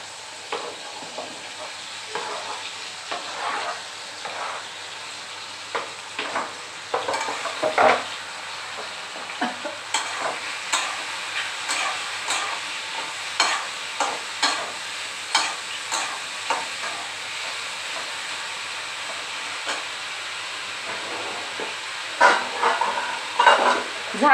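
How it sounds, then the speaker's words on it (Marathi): Mushrooms sizzle in hot oil in a kadhai, a steady frying hiss broken by repeated scraping and clinking stirs of a spoon against the pan. "हे मशरूम सगळे टाकून घेते। परतवायचेत आपल्याला जरा 5-10 मिनिट त्याच्यामध्ये"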